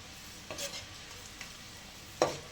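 Garlic frying slowly in a pan for chutney, a soft low sizzle with occasional scraping stirs and one louder clink of the spoon near the end; no one speaks.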